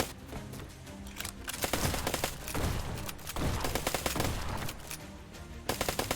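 Rapid enemy gunfire in the bullet-hell action game Black Skylands, dense automatic bursts that keep going with short breaks, loud and close, with no talk over it.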